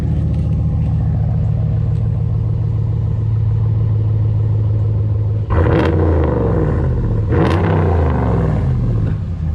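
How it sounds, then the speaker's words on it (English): A 2017 Ram 1500 with the 5.7 Hemi V8 and a Carven Competitor replacement muffler idles with a deep rumble, then its exhaust barks through two sharp revs that fall back down. "This is 2017 Ram 1500 Hemi. We did the Carven exhaust, or the muffler."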